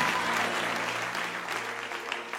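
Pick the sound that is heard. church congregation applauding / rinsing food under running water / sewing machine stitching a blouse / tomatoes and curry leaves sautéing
church congregation applauding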